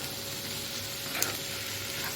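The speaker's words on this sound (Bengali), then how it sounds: "আমি পেঁয়াজটা আর একটু ভেজে নেব" Onions fry in a pan with a soft, steady sizzle heard close up, a continuous hiss with a faint clink partway through and no talking.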